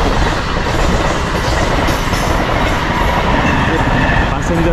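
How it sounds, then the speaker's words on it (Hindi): A passenger train rolls past a level crossing in India, a steady loud rumble of wheels and carriages with rhythmic clattering over the rails, close by and continuous throughout. "पैसेंजर ट्रेन टा"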